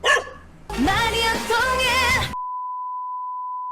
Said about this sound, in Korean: 이게 시끄럽지? 이놈! 일로와! 오, 멍멍이!